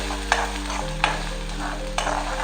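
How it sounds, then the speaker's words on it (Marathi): Onion sautéing in a pan, with a steady low hum of cooking and three sharp clinks or scrapes of a spoon against the pan spaced about a second apart. "कांदा परतला गेलाय मस्त असा"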